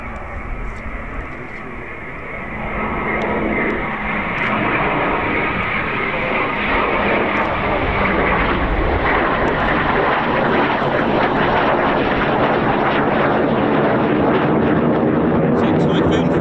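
A Typhoon jet roars past, its broad engine rumble swelling over the first few seconds and then holding as a loud, sustained wash of noise.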